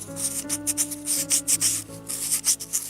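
A miniature bowl is sanded by hand with sandpaper while the other hand turns it, giving a rhythmic series of close, soft scraping rubs over a faint steady hum.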